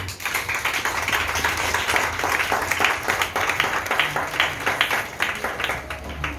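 A church congregation claps together in sustained, dense applause, steady and fairly loud throughout with no clear gaps, the individual hand claps merging into a continuous crowd sound.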